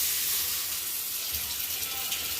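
Water pours into a cooking pot while fish curry is made, a short hissing splash with a brief sizzle, close and moderately quiet.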